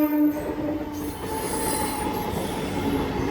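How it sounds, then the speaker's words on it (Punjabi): A train rumbles steadily past at close range at a railway level crossing, wheels squealing and a sustained horn-like tone over the constant roar. "ਟ੍ਰੇਨ ਆ ਚੁੱਕੀ ਆ ਇਹ ਟ੍ਰੇਨ ਚੱਲੀ ਆ"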